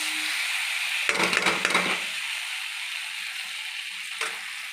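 Spices with ginger and garlic for a prawn and pumpkin-greens curry sautéing in a pan, a steady background sizzle broken by a short burst of scraping stirs and one later scrape.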